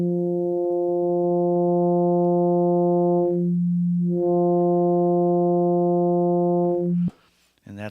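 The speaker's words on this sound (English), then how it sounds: "So I've turned the feedback off, and without it, of course, it sounds like this." A sustained FM synthesizer tone with operator feedback turned off: a steady, pure harmonic drone that dips briefly in the middle, then cuts off abruptly near the end.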